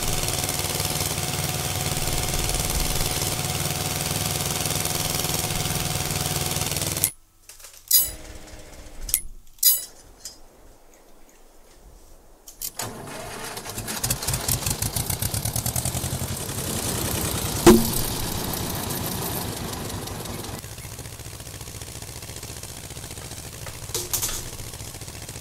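An Eicher 241 tractor in Farming Simulator 22 chugs with a rattling, clattering engine run, drops away briefly to near silence with a few knocks, then resumes idling steadily, with no talking.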